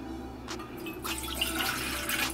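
Slightly more than a cup and a half of water is poured into a cooking pot for oatmeal, a steady close splashing rush that builds after a brief softer start and runs on without a break.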